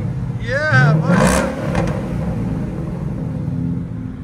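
A car revs hard with its valved aftermarket exhaust opened, a loud rising roar peaking early then settling into a steady rumbling idle, with a voice over it.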